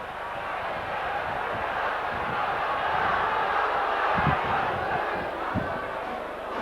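Stadium crowd noise at a Warrington versus Halifax rugby league match, a steady broad roar of many voices with scattered shouts and thumps rising slightly through the middle.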